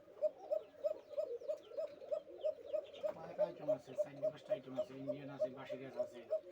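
Pigeons cooing on a pigeon farm, repeated soft rhythmic coos close by in a steady pulse, with a person talking over them in the second half.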